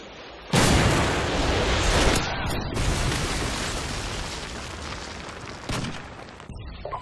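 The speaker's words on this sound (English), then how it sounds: "Friendly Predator missile inbound." Predator missile strike in Modern Warfare 2, a sudden loud booming explosion followed by a long rumbling roar and a second sharp blast near the end.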